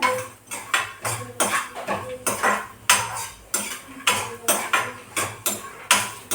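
Chutney ingredients are dry-roasted in a pan while a spoon stirs them in steady, repeated metal scrapes, about two strokes a second, close and clear with no talk.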